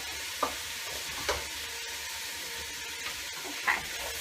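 Chunks of crookneck squash sizzle in a hot pot of alkaline soup, a steady close hiss broken by a few brief clinks and scrapes of a utensil, with no one speaking.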